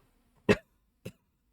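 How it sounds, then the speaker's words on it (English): Two short coughs close to the microphone, the first stronger, the second softer about half a second later, in an otherwise quiet room. "why am I coughing so much?"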